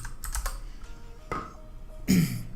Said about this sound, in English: So you need to go into Google Chrome and type in twitch.tv.